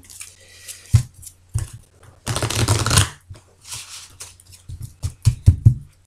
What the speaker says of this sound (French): je vais bien mélanger, bien sûr, ce jeu